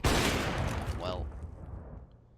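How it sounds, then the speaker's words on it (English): A single loud AWP sniper rifle shot in the tactical shooter CS:GO, a sharp crack with a long booming tail that fades over about two seconds, heard up close. "Excello's not going to be able to find the frag with the AWP, but it's going to bring A down to 13 HP"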